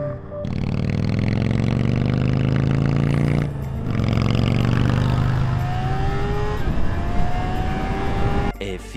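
A loud engine roars close by, its pitch rising steadily, dropping briefly as the gears change, then climbing again through the next gear.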